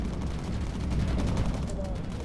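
Aircraft guns firing in the bomber video game Bomber Crew, rapid continuous rattling bursts over a low engine-like rumble, moderately loud throughout with a voice briefly over it.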